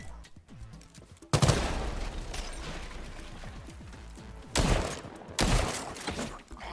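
Shotgun blasts from the video game Hawked: a sharp loud burst with a crashing tail, then two more heavy booms near the end, over a steady game-ambience background.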